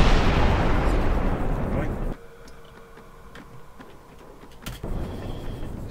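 Explosive barrels blow up in the Ratchet and Sly video game, a loud booming blast that rumbles and decays over two seconds, followed by quieter game ambience and another sharp impact near the end.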